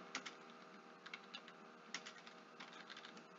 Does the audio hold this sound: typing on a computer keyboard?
yes